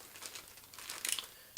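A plastic bag sealed with sellotape around a bookshelf speaker being unboxed crinkles and rustles softly, building to a brief cluster of crisp crackles and a sharp rip at the end.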